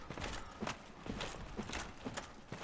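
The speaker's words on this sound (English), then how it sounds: "I hear footsteps. He's coming at me." Irregular armored footsteps of the Black Knight approaching in Dark Souls, a series of soft, muffled thuds spaced unevenly and fairly quiet, with faint background ambience and no talking.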